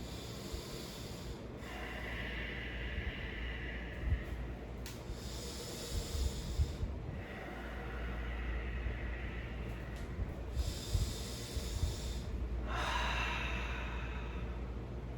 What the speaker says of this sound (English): take 3 slow deep breaths in and out